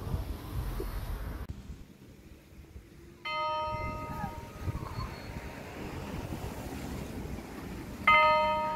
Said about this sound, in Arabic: لونا تعلمت كيف تدق الجرس كأنه لقينا لها شغل جديد